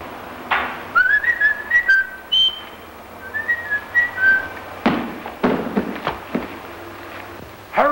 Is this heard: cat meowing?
no